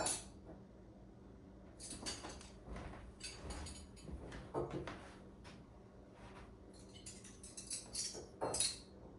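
Cutlery and a teaspoon set down one piece at a time while a table is laid, giving soft scattered clinks and taps of varying loudness with quiet room tone between them.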